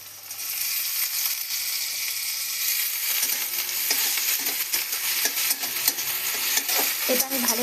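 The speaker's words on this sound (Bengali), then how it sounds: "এবার আমি পেঁয়াজ বাটাটা দিয়ে দেবো।" Onion paste frying in a pan for a Bengali chicken kosha, with a steady, close, bright sizzle and occasional stirring scrapes and clinks that grow busier toward the end.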